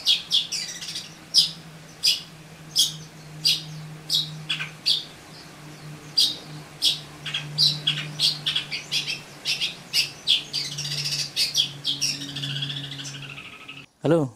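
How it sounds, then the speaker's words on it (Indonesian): A Madura long-tailed shrike sings in repeated sharp, scratchy chirps and squawks, fairly close, with a low steady hum running underneath throughout. "Kali ini kita mau update salah satu cendet trotol Dari Cakmanan Aziz"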